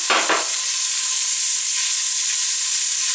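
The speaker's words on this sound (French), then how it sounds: "On va mettre les lardons." Bacon lardons hit a hot pan and sizzle loudly, a dense, steady, close frying hiss that carries on throughout after a brief initial crackle.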